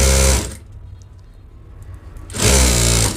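A sewing machine stitches a blouse sleeve, two loud close bursts of rapid whirring at the start and end with a quieter pause between.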